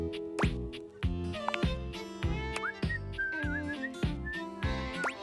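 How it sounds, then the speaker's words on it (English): Melodic whistling from a character in the video game Date Everything, a wavering tune over steady game music with rhythmic percussion throughout. "He's whistling when you walk up on him"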